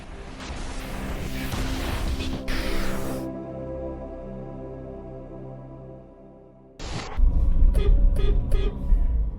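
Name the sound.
2021 Honda CR-V car horn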